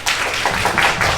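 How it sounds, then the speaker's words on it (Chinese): An audience at a press event claps to welcome a guest to the stage, a close, brief burst of applause with overlapping hand claps. "让我们掌声有请老师"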